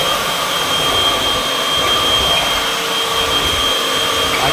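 A vacuum cleaner runs loud and steady from start to finish, a whooshing roar with a faint whine on top and no pauses.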